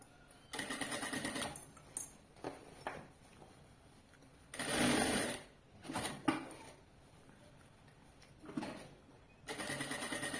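A sewing machine stitches a bag in several separate loud whirring bursts of varying length, close by, with quieter handling and pauses between runs.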